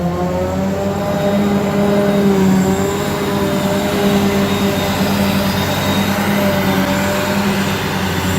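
A tractor engine runs steadily throughout, heard from inside the cab during silage work: a loud, continuous low drone with a constant pitch and no talk.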